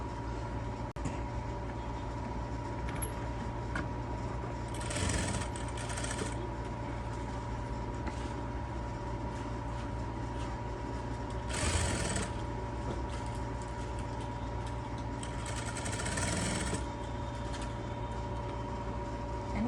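A sewing machine stitches a folded kurti sleeve with a steady, faint mechanical whir that runs throughout, and a few brief louder bursts of stitching stand out against the low hum, with no talking.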